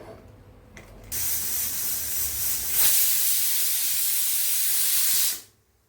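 A pressure cooker whistle releases steam in a loud, sustained hiss lasting a few seconds before stopping sharply, while cooking masoor rice.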